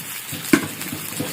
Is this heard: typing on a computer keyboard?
no